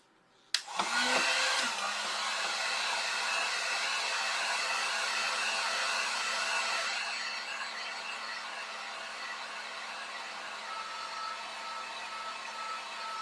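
A hair dryer blows on craft decor letters, switching on with a click and running as a steady loud whir, dropping to a lower setting partway through.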